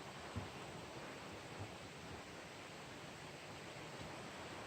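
A mountain stream running near an abandoned mountain town, heard as a soft, steady, distant rush of water with no voices.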